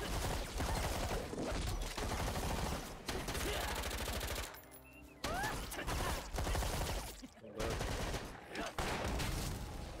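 Video game gunfire rattles in dense automatic bursts and volleys for most of the stretch, loud and close, with a brief lull near the middle before the shooting resumes.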